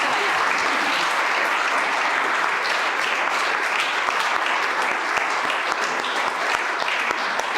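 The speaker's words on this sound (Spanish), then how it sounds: "Así que un aplauso, porque la verdad que suerte tenerla aquí." Applause from an audience at a botany talk: a thick, unbroken wash of many hands clapping at steady loudness from start to finish.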